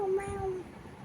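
A two-year-old girl imitates a cat with one short, close, whiny meow.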